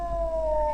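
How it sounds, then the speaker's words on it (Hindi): A jackal or dog howls at night in one sustained, wavering tone that drifts slightly lower, steady and moderately loud throughout, with a low rumble underneath. "कहीं गीदड़ बोल रहा है, कहीं कुत्ते बोल रहा है।"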